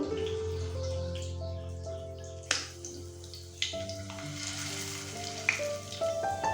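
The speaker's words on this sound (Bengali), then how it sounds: "বড়াগুলো এক পিঠ লাল করে ভাজা হয়ে গেলে আরেক পিঠ এইভাবে উল্টে পাল্টে ভেজে নেব" Small shrimp fritters fry in hot oil in a wok, giving a soft, steady sizzle with a few light crackles, alongside quiet tonal background music.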